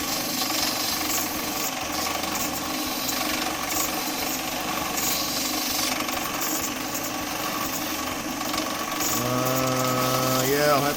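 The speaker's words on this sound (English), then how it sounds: "I'm going to have to sand the end" A wood lathe hums and whirs steadily while the end of a turned wood piece is sanded, a continuous mechanical drone that swells slightly near the end.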